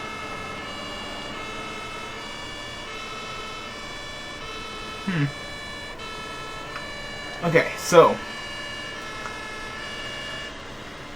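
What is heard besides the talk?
ambulance siren in video game Emergency 112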